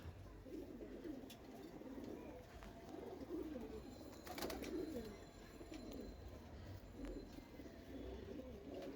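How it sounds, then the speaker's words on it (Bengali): A male khaki pigeon coos softly nearby, with low rolling murmurs repeating throughout, quiet against faint room noise and occasional light knocks. "কত সুন্দর একটা খাকি কবুতর ঠিক আছে খাকি কবুতর দেখছেন"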